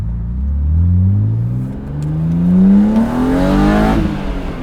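A BMW M3 engine roars loudly as it accelerates hard in first gear, dips briefly at the shift into second, then climbs again in a rising, throaty whine.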